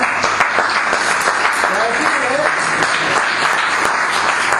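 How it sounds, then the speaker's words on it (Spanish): Church congregation applauding during a worship service, dense steady clapping filling the whole stretch, with voices murmuring and calling out underneath. "Vamos a dar un aplauso."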